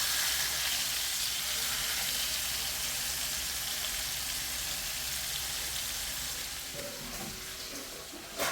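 Fish fry in hot oil with a steady, loud, hissing sizzle that continues without a break, fading slightly near the end.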